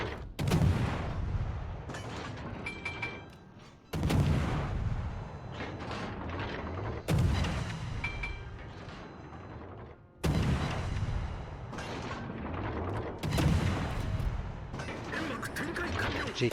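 Tank cannon fire in a tank battle video game, about five heavy booming shots spaced a few seconds apart, each followed by a mechanical reload rumble and clanks, close and loud.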